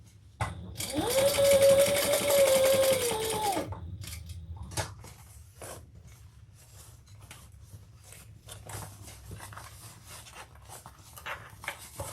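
A sewing machine stitches a fabric bag in one steady, close run of about three seconds, followed by quiet handling noises and faint rustling of the material.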